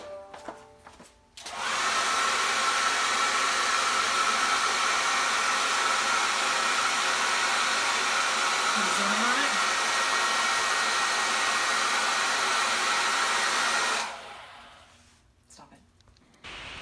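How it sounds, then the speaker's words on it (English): A hair dryer switches on and blows with a loud, steady whoosh for about twelve seconds, then winds down as a voice briefly speaks. "hairdryer,"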